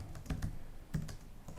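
Code being typed on a computer keyboard while working in Unity3D, a steady run of close, soft keystrokes with a few stronger hits, no voices.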